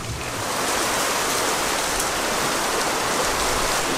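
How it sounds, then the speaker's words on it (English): Heavy rain pours steadily onto a balcony after a warm day, a dense, constant hiss that swells in the first half-second and then holds loud and close with no voices. "then it started raining like this"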